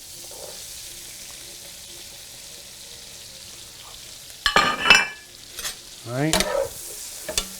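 Onions and mushrooms sizzling in a pan, a quiet low sizzle that swells into louder bursts of scraping and stirring in the second half, with brief talk.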